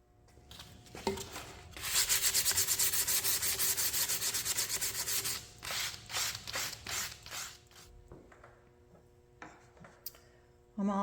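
Sanding on a wooden scrollwork shelf: a steady loud scratching rasp for several seconds, then shorter rhythmic back-and-forth strokes that taper into scattered rubs and quiet pauses.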